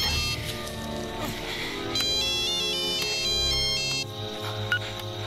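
A mobile phone rings with a bright electronic melody of stepped tones, fairly loud and steady over low background noise, in a scene where the handset lies buried in a stinking heap of raptor dung.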